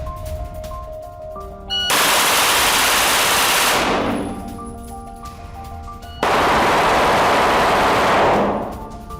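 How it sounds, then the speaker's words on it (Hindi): Long bursts of automatic gunfire in news footage of a long-range attack on Israeli soldiers, two loud sustained volleys with quieter gaps between them. "कई किलोमीटर दूर से इजरायली सैनिकों पर फायरिंग"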